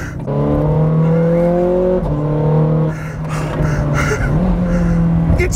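A Ferrari 430 Scuderia's engine revs up loud and close in strong climbing pulls, with brief breaks at gear changes between rising runs, heard from inside or right beside the car.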